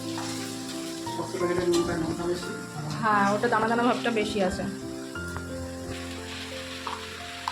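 Potatoes and onions fry in a pan, giving a soft continuous sizzle and hiss with some stirring, mostly beneath close conversation.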